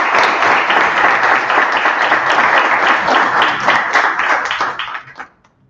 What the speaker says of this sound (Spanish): hacemos ahí un aplauso para Máximo